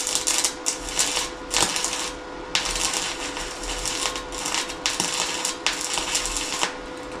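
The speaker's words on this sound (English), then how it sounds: "Like that is super cold welding at 90 amps." A VEVOR MIG welder runs a welding rod cold at low amperage, around 90 amps, giving a steady, close crackling sizzle with sharp pops, interrupted by short pauses between bursts.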